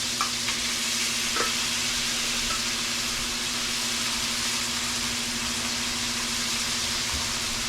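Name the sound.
marinated deer backstrap stir frying in pan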